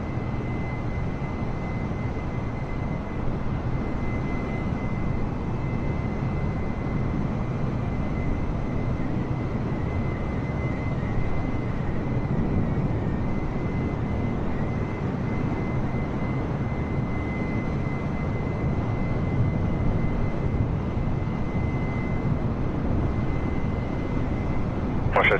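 Steady roar of an aircraft engine during takeoff on runway 23 at calm wind, a continuous broadband rumble holding even and fairly loud for the whole span with no break.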